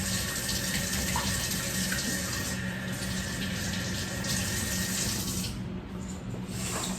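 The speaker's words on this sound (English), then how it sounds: "I'm going to wash my hands" Water runs steadily from a kitchen faucet while hands are washed under it, a close continuous splashing hiss with slight shifts in tone as the hands move through the stream, no talk.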